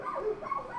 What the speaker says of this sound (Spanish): Se oyen un poco los perros, ¿eh?